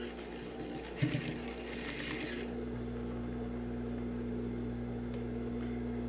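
A sewing machine stitching lining along a side seam, a short burst of rapid stitching near the start, then a faint steady motor hum.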